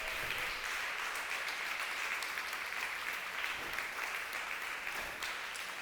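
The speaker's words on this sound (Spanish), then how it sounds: "Dele un aplauso al Señor." A congregation at a church sermon claps steadily in dense, sustained applause, a continuous wash of many hands at a moderate distance with no talking over it.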